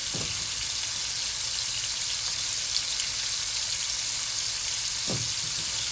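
Meatballs for Swedish meatballs brown in batches in a frying pan, giving a constant close sizzle with two brief clunks of the pan or utensil.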